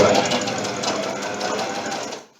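A sewing machine runs through synthetic quilt fabric for a top quilt sleep system, a fast close needle chatter that stops abruptly near the end.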